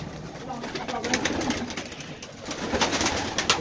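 Feather-footed pigeons in a Baku loft cooing softly amid rustling, scuffing and wing flutters, with someone speaking at moments.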